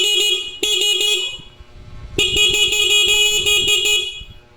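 A car's stock horn sounds twice with the engine off, a short blast followed by a longer one made of several quick honks, loud and close.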